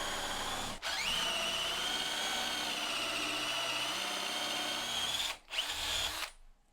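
A power drill runs continuously while boring holes in wood through a guide block, a loud, close whine that briefly cuts out near the start and again before trailing off at the end.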